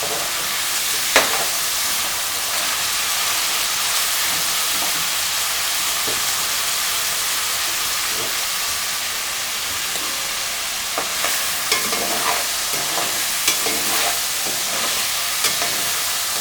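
Dried vanjaram fish frying in a pan, a loud, steady sizzle and crackle of oil filling the whole stretch, with occasional scraping stirs and small pops rising above it.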